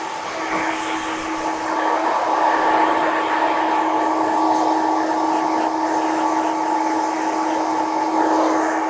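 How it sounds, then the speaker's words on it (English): A hair dryer blows steadily while drying the underside of long red hair during a haircut, a loud even whine with a constant tone lasting throughout, no voices. "I'll dry the underneath."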